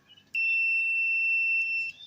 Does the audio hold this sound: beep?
yes